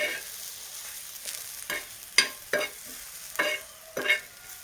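Green chillies roasting on a hot griddle give a soft, steady sizzle broken by about six sharp scraping strokes of a spatula, close by and fairly quiet, with no talk.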